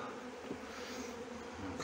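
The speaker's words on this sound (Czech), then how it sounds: "A včely, než tu tam vložím, řádně ometu z těch rámků." Honey bees buzzing close by as they are brushed off hive frames, a dense continuous drone holding steady throughout.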